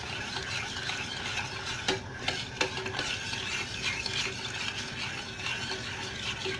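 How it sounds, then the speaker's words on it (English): A spoon stirs beef lasagna sauce with milk in a pot over a low flame, making a continuous wet swishing with a few sharper scrapes and taps against the pot, steady and close without talk. "And then we just have to make sure to stir it very well."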